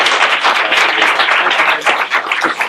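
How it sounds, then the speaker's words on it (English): A township meeting audience claps and applauds steadily and fairly loudly for a few seconds with no talk over it. "How about a big round of applause?"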